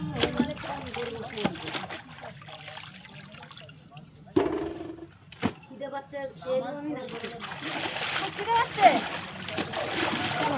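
Items being washed by hand in cool pond water, with irregular splashes, dribbles and sloshing close by, some sharper bursts among softer trickling, while people talk throughout.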